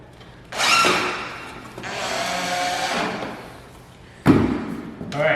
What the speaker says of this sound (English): all I'm going to do is just put 2 screws in there and that'll hold it